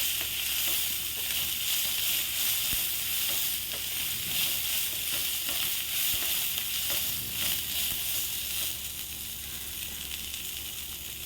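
Fresh coriander leaves sauté in a very hot pan for chutney, a loud continuous sizzle with soft, regular stirring scrapes running throughout and no speech.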